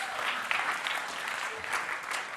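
An audience at a live mind-reading stage show applauds, a dense wash of steady clapping at moderate level throughout, with no voices standing out.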